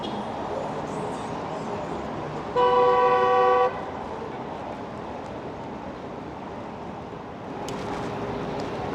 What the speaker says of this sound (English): There's a lot of traffic here on 6th Avenue.